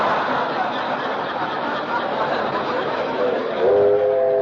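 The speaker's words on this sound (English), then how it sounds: "Didn't I hear a train?" A radio-drama sound effect of a passing train plays as a continuous rumbling roll, with a whistle-like tone rising near the end.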